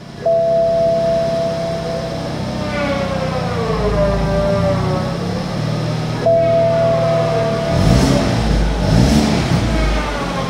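A BMW 220i M-Sport engine revs up and falls back twice, its pitch climbing and dropping in smooth sweeps over a steady idle, close and fairly loud, with a rougher burst near the end.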